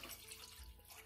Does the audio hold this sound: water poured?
yes